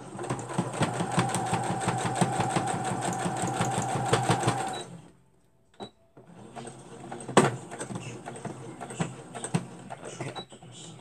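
Sewing machine restitching over existing stitches on a wallet, running in a steady rapid mechanical chatter for several seconds, stopping abruptly, then a few scattered clicks and handling noises follow.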